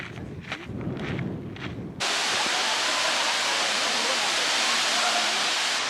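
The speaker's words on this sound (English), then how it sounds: "Check out this waterfall." Steady, loud rush of the Jilabun waterfall fills the scene after a brief moment of softer outdoor noise, near the Syrian border.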